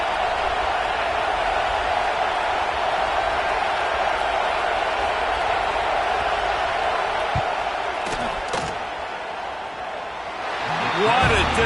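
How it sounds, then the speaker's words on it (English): A stadium crowd roars in a loud, sustained wall of noise during a field goal attempt in the NCAA 26 college football video game, dipping briefly before swelling again. "This crowd trying to do its part to get inside the kicker's head."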